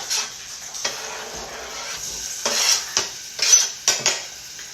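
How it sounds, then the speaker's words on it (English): Garlic and onion crackle and hiss in hot oil in a pot while a spoon scrapes and clatters against the pot in irregular knocks. "you're going to hear it sizzling a minute."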